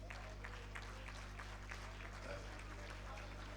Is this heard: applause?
yes